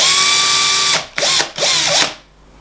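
A drill machine winds wire for a Clapton vape coil in short whirring bursts: one long steady spin, then two quick rising-and-falling pulses, close and loud with no talk.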